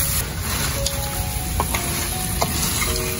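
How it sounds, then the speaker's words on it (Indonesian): Spice paste sizzling in a pan for a sweet-and-spicy sweet potato dish with bay and lime leaves, a loud dense frying hiss punctuated by a few stirring clinks, close by and without speech. "ini Uti mulai tumis bumbu untuk kering ubi pedas manisnya"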